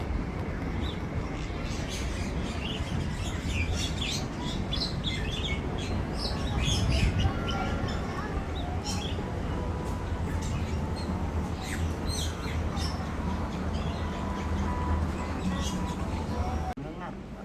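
Birds, including whistling ducks, chirp and call in scattered bursts at an aviary park in Bintaro, Indonesia, over dense background crowd noise and occasional talking.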